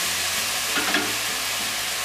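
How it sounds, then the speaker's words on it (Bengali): Malabar spinach stems and pumpkin pieces stir-fried in a pan with spices, giving a steady broadband sizzle with a brief scrape of stirring near the middle of this short stretch. No voices. "পুরোটা এখন ভালো করে মিশিয়ে নিয়ে আমি 5 থেকে 7 মিনিটের মতো ভেজে রাখবো"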